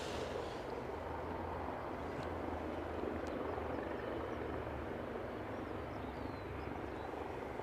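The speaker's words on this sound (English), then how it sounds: "The helicopter to my right does sound like it's moving." A helicopter drones steadily at a distance near Aberdeen airport, its low rotor rumble continuous and unchanging throughout.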